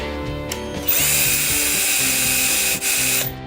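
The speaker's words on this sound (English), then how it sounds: "I'm going to take my drill and I'm just going to make a hole" Electric drill boring a hole through a small wooden block resting on a piece of scrap wood, a steady loud whirring grind that starts after a brief pause and runs continuously before stopping near the end.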